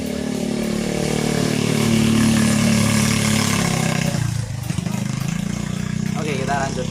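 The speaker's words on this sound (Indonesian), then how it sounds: "Sebentar, ada motor lewat." A motorcycle passes close by, its loud engine drone swelling and then fading away, heard apart from any talk.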